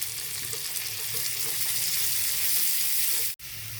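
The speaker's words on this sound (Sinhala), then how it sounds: "සුදු ලුණු ටික ටිකක් තෙලේ ටෙම්පරාදු වෙන්න ඇරලා අපි ඒකට එකතු කරනවා කපාගත්තු ලොකු ලුණු ටිකයි ඒ වගේම කරපිංච ටිකයි" Chopped onion and curry leaves join garlic already frying in oil, giving a continuous close bright sizzle with faint crackles, then a sharp clack near the end.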